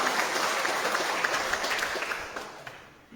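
A church congregation applauds loudly during a worship service, a thick continuous roar of many clapping hands that holds strong and then tapers off at the close.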